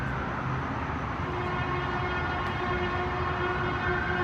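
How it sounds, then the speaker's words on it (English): An ambulance siren wails faintly in the distance in Los Angeles beneath a steady low rumble of traffic or trains, holding a long sustained tone throughout. "Actually, that may be an ambulance siren."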